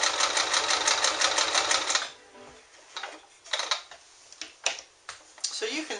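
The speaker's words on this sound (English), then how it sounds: "You gotta be a little careful when you're sewing on heavy fabric like this." An early-1960s Kenmore 158.10301 sewing machine stitches heavy denim fabric, a fast steady mechanical whir for about two seconds, then stops and gives way to a few scattered clicks and handling knocks.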